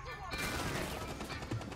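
Gunfire in a Rainbow Six match, a sudden dense burst of rapid shots that starts abruptly and holds loud and close for the rest of the moment, with no voice over it.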